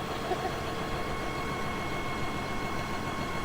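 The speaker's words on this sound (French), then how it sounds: "je te propose que tu éteignes le tracteur" Tractor engine idling on a farm, a steady low mechanical rumble with a faint hum that runs evenly at moderate volume throughout, no voices over it.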